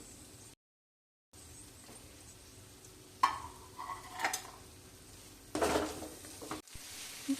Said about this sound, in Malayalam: അതിലേക്ക് വെളുത്തുള്ളി ചതച്ചതും ഇഞ്ചി ചതച്ചതും ഇടും.